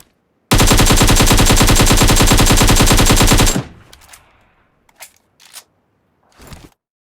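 An assault rifle in PUBG Mobile fires a loud, rapid, sustained automatic burst of about three seconds. It stops abruptly, leaving a short fading tail, and a few faint clicks follow.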